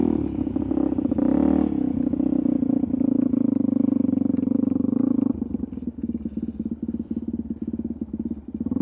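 A motorcycle engine roars loudly and steadily as the rider pulls a wheelie on a sandstone trail, the note dropping and turning choppy after about five seconds as the throttle eases.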